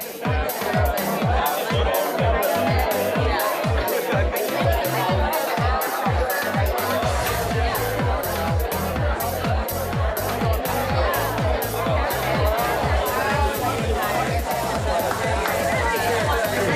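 Audience members chat with their neighbors at a fitness event, a continuous loud hubbub of many overlapping voices filling the room, with a pulsing rhythmic beat underneath throughout.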